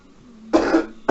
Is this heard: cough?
yes